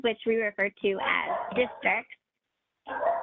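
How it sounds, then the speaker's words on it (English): Dogs bark at home behind a person speaking during an online webinar, with a short burst of barking rising clearly at the end after the talk pauses. "I apologize for my dogs as well."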